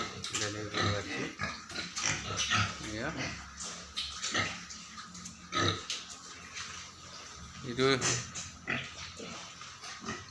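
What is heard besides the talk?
pigs grunting on a pig farm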